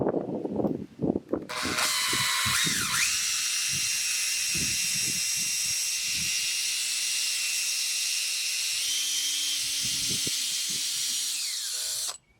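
A power drill whines loudly and steadily for about ten seconds, boring through a hornbeam branch, after a few brief knocks at the start.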